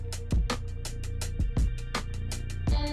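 Repeated bright chiming bell tones from a video game store, signalling someone entering the parking lot, ringing over a steady droning background with low thumping beats.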